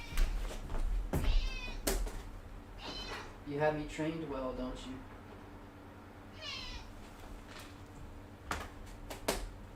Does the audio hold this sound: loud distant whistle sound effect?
no